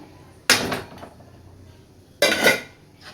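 Metal spoon scraping and clanking against a pan as idli podi powder is stirred into oil and garlic, two loud bursts of scraping separated by a quieter stretch.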